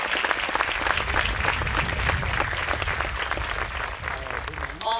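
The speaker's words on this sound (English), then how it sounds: "Let's give them a round of applause." An audience applauds at a school graduation ceremony, loud dense clapping that goes on throughout and thins slightly near the end, with a few voices under it.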